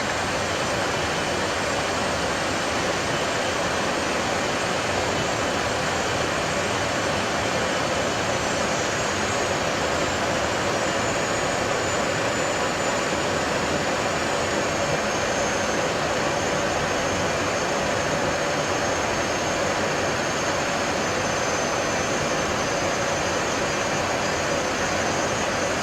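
Jet engines of an Avro RJ100 airliner heard from the cockpit while landing in Greece, a constant loud broadband roar with a thin high whine that runs unbroken the whole time.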